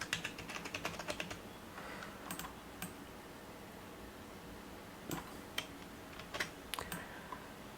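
Quiet computer keyboard typing while a mobile app is laid out in Figma: bursts of rapid clicking keystrokes, then a few scattered key taps at a steady low level, with no talking.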